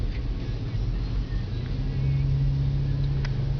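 Interior of a 2011 Chevy Equinox LT cruising on the road at moderate speed, a steady low engine and tyre rumble with a slight rise in engine tone partway through; no talking.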